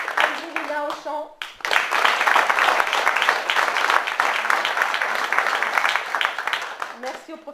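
An audience at a concert applauds the musicians, including a saxophonist and a singer, with dense, sustained clapping that fills the room after a short spoken line, then fades as a voice returns at the end.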